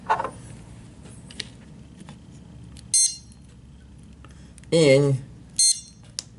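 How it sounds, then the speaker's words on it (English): Short, sharp electronic beeps from a 9-volt battery-powered keyer circuit sound a few times, each brief and high-pitched, with someone speaking quietly in between. "it beeped once"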